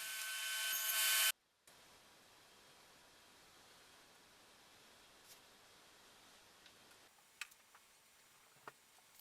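A table saw cuts 45-degree miters in solid wood. A loud, tonal motor whine lasts about a second and cuts off abruptly, leaving a quiet room with a few faint clicks and taps.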